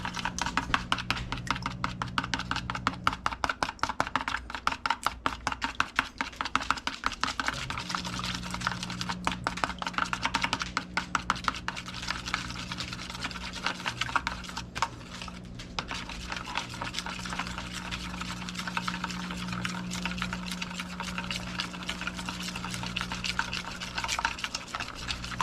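Egg batter for deer tenderloins is whisked briskly in a bowl, making a rapid, steady clicking and sloshing that runs the whole time, close and moderately loud with no talking.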